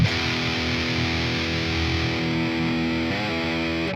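Heavily distorted metal electric guitar played through a Tue Madsen cabinet impulse response, thick and sustained chords ringing steadily for several seconds before cutting off, with no talking.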